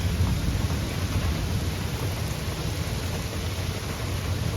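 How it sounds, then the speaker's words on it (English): Steady rain falls in a dense, even hiss with a low rumble beneath it, continuous and unbroken throughout, with no voices. "Yeah, we've been getting a lot of rain here."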